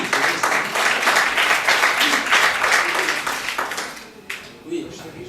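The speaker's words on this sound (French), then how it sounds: "Oui, on applaudit." An audience at a forum theatre performance breaks into loud, sustained applause, a thick continuous clatter of many hands that fades after about four seconds, with voices beginning to talk as it dies down.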